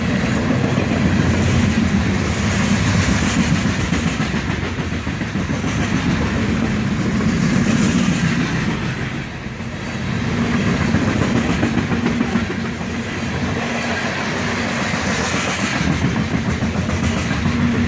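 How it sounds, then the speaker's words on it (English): A long coal train rolls steadily past at close range, its loaded hopper cars rumbling and clacking over the rails in a repeating rhythm. "Just hopper after hopper loaded with coal."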